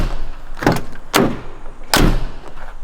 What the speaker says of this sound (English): Look at the door, the way it's closing.